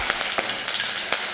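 Curry leaves and fenugreek crackle in hot sesame oil while tempering a Tamil mint kulambu, a steady close sizzle and frying hiss with a few sharper pops, no talking.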